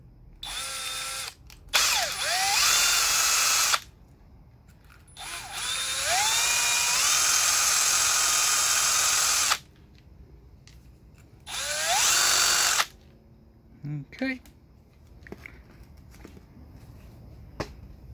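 A power drill spins a brass shotgun wire brush inside a vehicle light fixture, giving high, whining bursts of several seconds each that repeat four times with short pauses, close and loud, with no talking.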